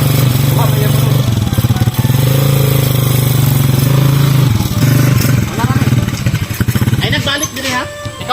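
A habal-habal motorcycle taxi engine runs loud and close, idling with a steady throb and a few revs, while people talk over it before the engine fades slightly at the end.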